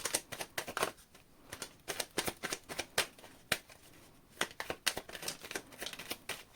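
Tarot cards being shuffled in quick riffled bursts, a run of sharp papery clicks and flutters with short pauses between rounds, close and fairly quiet with no talk.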